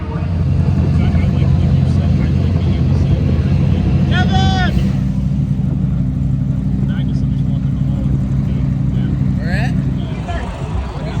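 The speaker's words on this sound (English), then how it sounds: "All the GT, prototype, LMP cars, they're all out on track." GT, prototype and LMP race cars circulate on track during practice at Daytona, producing a continuous loud engine roar with a passing whine midway, while a person talks over the noise.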